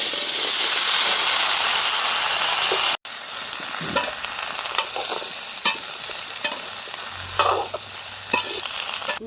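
Onions frying in a pan with curry leaves, fenugreek, fennel, mustard seeds and spices, in a village kitchen: a steady broadband sizzle, close and loud, with occasional stirring scrapes and clinks and no talk.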